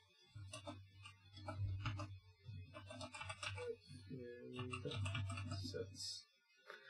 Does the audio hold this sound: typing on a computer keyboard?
yes